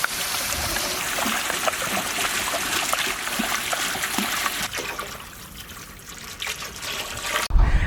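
Water is poured into a pan of Malaysian chicken biryani (nasi biryani) sauce with tomato puree and turmeric, a steady close splashing and trickling that runs for several seconds before easing off near the end.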